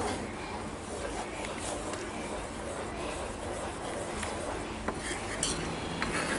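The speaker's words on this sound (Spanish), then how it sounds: "Removiendo sin parar de remover y a fuego lento." Tomato sauce stirred in a pot over low heat, soft continuous scraping and clinking of a utensil against the pot, close and even, with faint background noise.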